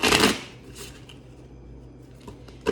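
A deck of law of attraction oracle cards is shuffled close by. One loud riffling burst is followed by softer rustles and a sharp tap of cards at the end, with no talking.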